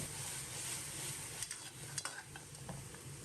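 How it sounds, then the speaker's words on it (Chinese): Blanched pig trotters are stir-fried over medium heat in a wok with caramelized sugar, ginger, scallion and spices as the braising liquid thickens; there is a steady quiet sizzle with a few scraping clinks midway and no talk. "放入焯水的猪手，开中火在锅中煸上2分钟，把汤汁烧至粘稠"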